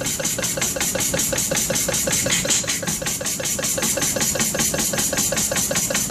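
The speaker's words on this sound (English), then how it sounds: "Again, it's a Legacy Performance Series 2 oil pump." A Legacy Performance Series 2 oil pump runs steadily, pumping oil with a loud, continuous mechanical hum and a fast, regular ticking pulse throughout.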